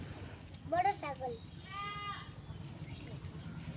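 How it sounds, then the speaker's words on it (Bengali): A goat bleats twice in quick succession, fairly close and moderately loud, over a low background rumble with a softer, fainter cry trailing after. "আমি ছাগল দেখতেছি"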